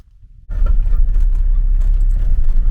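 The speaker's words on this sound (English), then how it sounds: "Driving to Serabit Temple, climbing Mount Serabit with the car." A car climbing Mount Serabit on the drive to Serabit Temple in the Sinai desert, its engine a steady close rumble that starts abruptly and holds loud and even, with road noise and no talk.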